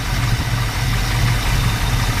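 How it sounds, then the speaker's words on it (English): A 1963 Chevy Nova engine idles while warming up, a loud, close, steady rumble with an even low pulsing throb and no knocking. "The motor seems to run pretty good. Don't hear any knocking."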